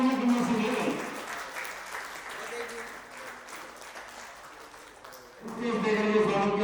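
Audience applause welcomes retirees at a retirement ceremony, a steady wash of clapping heard beneath a voice talking over a loudspeaker, with the talking growing louder near the end.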